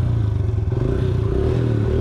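A motorcycle engine that had trouble starting, repaired with a new spark plug, runs close and loud with a steady idling chug and some mechanical clatter, and no talk over it.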